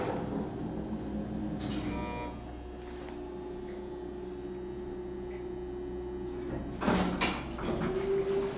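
An elevator door sliding at the UMass Isenberg School of Management, two brief mechanical sliding bursts over a constant cabin hum, with no speech.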